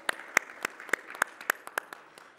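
A small audience at a research dialogue gives brief applause, a sparse run of distinct, fairly close claps at an irregular pace rather than a dense crowd roar.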